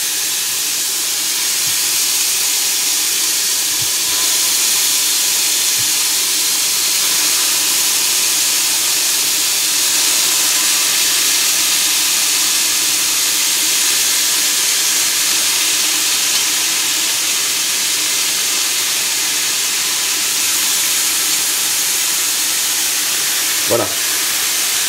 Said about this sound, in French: Et on va venir donc tout simplement déposer nos brochettes. Voilà. Et on va les faire cuire 10 minutes.